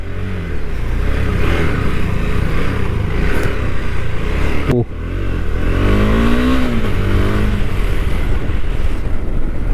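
A KTM Adventure 390 motorcycle engine drones loudly and continuously while riding, its pitch rising and falling with the throttle, heavy wind rush over the top and a brief dip midway.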